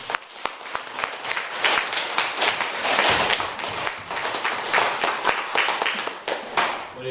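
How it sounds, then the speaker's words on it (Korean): A church congregation applauds together in praise to God at a year-end service: sustained, dense clapping from many hands that fills the room, swelling and easing slightly over several seconds with no speech on top. "한 해 동안 지켜주시고 함께 해주신 하나님께 우리 영광의 박수를 한번 드리겠습니다"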